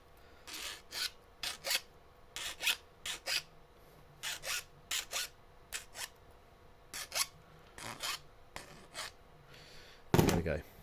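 Hand file rasping to chamfer off an edge, about twenty short rhythmic strokes in quick bursts, close and distinct, ending with a louder handling clatter.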